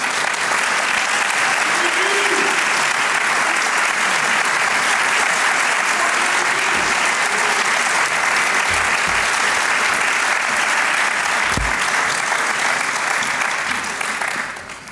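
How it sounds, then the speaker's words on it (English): Loud, sustained audience applause fills a hall as Democratic candidates for Illinois governor walk out for a forum, steady dense clapping for about fourteen seconds before tapering at the end. "So you can applaud now."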